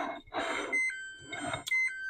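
A kitchen timer alarm beeps in short repeated bursts during cooking, with clattering and kitchen noise around it.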